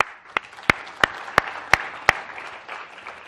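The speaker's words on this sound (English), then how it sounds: "Actually, let's applaud them." An audience applauds a debating society at a debate event, with a scattered patter of claps and several loud, sharp nearby claps landing at a steady beat for about two seconds before fading out.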